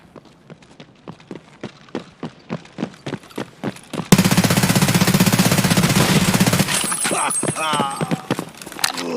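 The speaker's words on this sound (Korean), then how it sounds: "발소리 다행히 온다" Footsteps approach in Escape from Tarkov on the Interchange map: a run of rhythmic thuds grows louder over several seconds, then gets buried under loud, sustained automatic gunfire.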